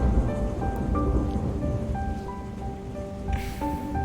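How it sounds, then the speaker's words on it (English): Steady rain falls outside an apartment at night in the video game Love Spell: Written in the Stars, a constant loud patter with soft musical notes ringing over it. "as the sound of the rain fills my apartment"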